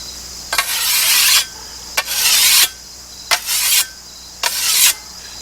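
A hand file rasps rust off the bevel of a hand weeding tool, four long strokes about a second each with short pauses between, close and fairly loud, no talking.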